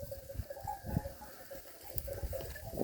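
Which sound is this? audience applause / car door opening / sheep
sheep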